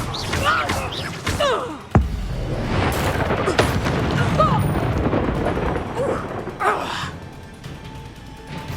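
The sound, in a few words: spells Confringo, Accio, Expelliarmus cast in the video game Hogwarts Legacy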